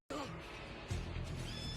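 A horse whinnies amid a busy, noisy animated scene, its high wavering call rising over steady background clatter, with a heavier thump partway through.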